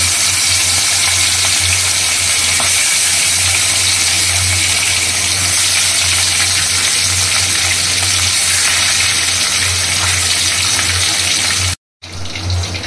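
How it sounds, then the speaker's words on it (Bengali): Fish pieces frying in hot oil in a wok, a steady loud hiss and sizzle that runs unbroken for about twelve seconds before a brief dropout near the end, with no talking. "তেল গরম হয়ে গেছে, এবার এক এক করে মাছগুলো ছাড়বো।"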